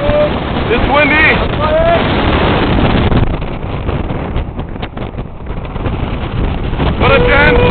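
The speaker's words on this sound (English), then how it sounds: "It's windy." Strong wind buffets the microphone by the sea, a loud continuous roar that eases briefly midway, with excited voices shouting over it.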